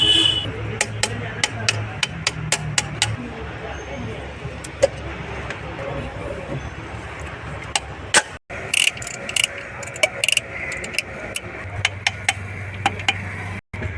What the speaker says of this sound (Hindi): पिस्टन ठोकना चालू हो चुका है